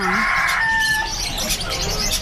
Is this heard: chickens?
yes